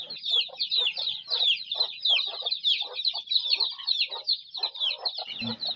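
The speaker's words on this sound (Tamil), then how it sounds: "ஒவ்வொரு கோழியும் ஒரு பத்து குஞ்சோட கூட்டிகிட்டு திரியிறது" Free-range country hens clucking steadily with their broods of chicks, a close, busy stream of overlapping clucks and peeps with a brief louder squawk near the end.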